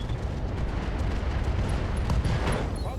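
An AC-5 ammo explosion tears into a Marauder mech in the video game RogueTech, a dense, sustained roar of blast and rumble with layered crackling impacts throughout.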